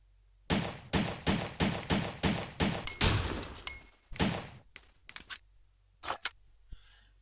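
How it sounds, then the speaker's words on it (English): Handgun A firing in the Resident Evil Survivor video game: a rapid run of about eight sharp, loud shots at a steady rhythm, then a brief pause with mechanical clicks and a few more scattered shots, without talk. "Handgun A, so let's test it out real quick"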